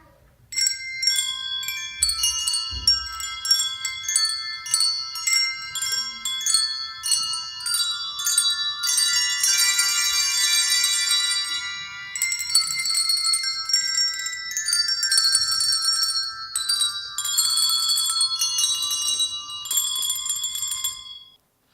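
Handbells rung by church children in a Christmas program, a long run of bright pealing tones in a steady melodic sequence that builds into fuller ringing chords, near and clear with no talking.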